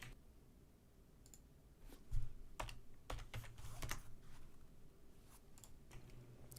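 Computer keys click in quick, irregular bursts as someone types while building their first game, the taps close and fairly quiet with brief pauses between runs.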